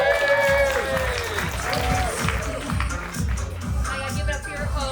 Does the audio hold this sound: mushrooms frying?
no